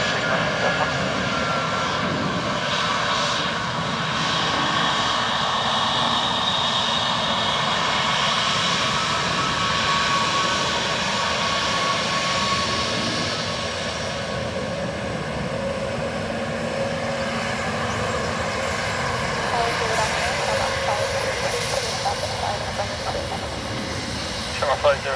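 A Ryanair jet on runway 28 left at Dublin Airport produces a steady, broad engine roar that holds for the whole stretch, with radio talk mixed in.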